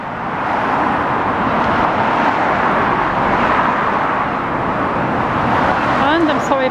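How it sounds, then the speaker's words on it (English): Constant roar of traffic on a busy road beside a park at dusk, with cars rushing past nearby in an unbroken wash of tyre and engine noise, and a vehicle passing near the end. "I'm sorry about all the traffic noise, but it is what it is."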